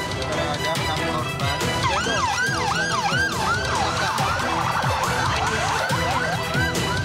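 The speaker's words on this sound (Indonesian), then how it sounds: "Menggunakan iring-iringan 6 ambulans" Wailing sirens from a convoy of six ambulances carrying victims of a landslide in Pacet, Mojokerto, East Java, with several overlapping sweeping tones that stay loud and continuous over traffic noise throughout.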